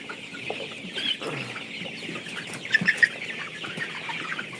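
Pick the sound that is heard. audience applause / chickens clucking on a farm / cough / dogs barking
chickens clucking on a farm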